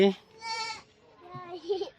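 A goat in a village bleats in a couple of short, wavering calls, close and moderately loud, separated by a brief pause.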